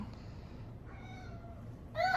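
A cat meows in a home kitchen, with a few soft drawn-out calls followed by a louder, sharper meow at the end, heard alone with no talk.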